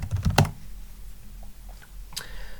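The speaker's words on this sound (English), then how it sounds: "type the sudo password" Someone types a sudo password on a computer keyboard on an Ubuntu server: a quick burst of several close, crisp key clicks, then a single click near the end over quiet room noise.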